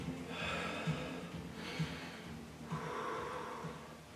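Heavy, steady breathing after a workout, with about four audible cycles of breath within a few seconds, close and moderately loud, with no talk.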